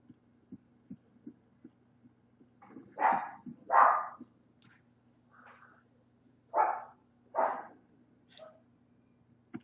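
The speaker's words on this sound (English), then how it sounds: "Ignore the dog bark." A dog barks in two pairs of sharp, fairly close barks separated by a pause, over a low steady hum and faint ticking.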